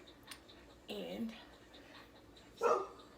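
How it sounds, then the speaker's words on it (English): A pet dog barks outdoors on a nice day, two short bursts about two seconds apart, fairly close over a faint background hiss. "you hear baby girl outside barking"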